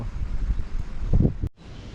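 Dry wind blows outdoors, rushing and buffeting the microphone in a low, uneven roar for a couple of seconds before dropping briefly.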